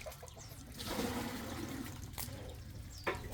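Well water on Alibijaban Island is poured out for bathing, splashing and gurgling in uneven bursts at moderate distance. A sharper splash comes near the end, and the clip is fairly quiet overall.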